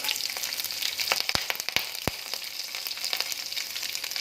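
Chopped green chillies frying in oil for palak chitranna, with a bright, steady close sizzle and a few sharp clicks of a utensil against the pan.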